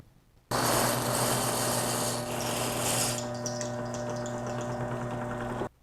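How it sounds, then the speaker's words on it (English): A new guitar buffing wheel being broken in spins up with a loud motor whine and steady abrasive rubbing, running continuously for about five seconds before stopping abruptly. "I'm going to do one more run on this and see if I can't pull any more fibers out."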